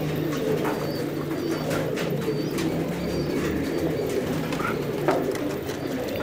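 Several pigeons coo together inside a loft, a continuous low burbling with occasional light flutters and sharp clicks over about six seconds.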